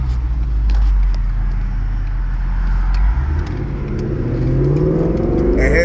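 A Ford Mustang 5.0 V8 drops through a paddle-shift downshift, its engine note dipping, then climbing in a rising rev, loud and close with a low rumble throughout.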